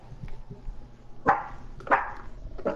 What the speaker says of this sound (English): Don't start that barking bullcrap.